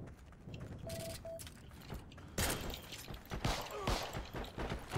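Karabiner K98k bolt-action rifle shot in the online shooter Heroes & Generals, a sudden loud broadband crack midway through, followed by further scattered gunfire and battle noise amid game ambience.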